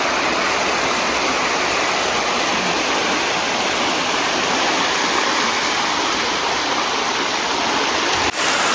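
Rajagiri waterfall in Odisha roars as a steady, dense rush of falling water, loud and continuous from close range with no voices over it.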